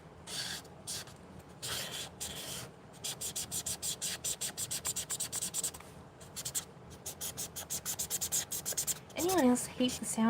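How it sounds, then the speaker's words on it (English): A drying-out marker scratches across paper in quick, rhythmic bursts of strokes with short pauses between them, close and fairly quiet. A voice briefly speaks near the end. "Anyone else hate the sound of markers drying out?"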